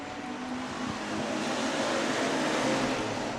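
Dirt track race cars roar off together at the green flag at the Rev, a dense, loud, sustained engine rumble that swells steadily as the field accelerates.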